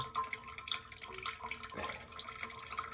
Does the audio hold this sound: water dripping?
yes